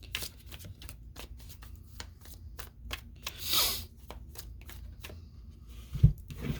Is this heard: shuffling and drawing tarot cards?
yes